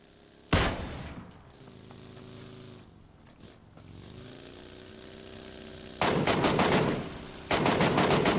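Gunfire in PUBG: a sudden loud shot early on, then a quiet stretch of engine hum, followed by rapid bursts of close automatic fire near the end.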